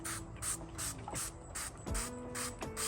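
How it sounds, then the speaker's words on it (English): Rapid series of sharp hissing sprays from a nootropic spray bottle, about eight quick pumps in a steady rhythm, close and clear with a faint mechanical click under each. "So it says to take 3 to 8 sprays. I'm gonna go for 8."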